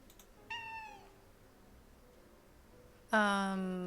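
Two cat meows from a video game, a few seconds apart, the first short and higher, the second louder and drawn out, over quiet background.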